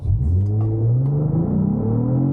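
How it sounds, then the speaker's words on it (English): A 2023 Cadillac CT4-V Blackwing engine revs up in one steady, rising run, loud and close, rumbling continuously with no talk over it. "when you put your foot on off the throttle, it makes these aggressive like rumbles"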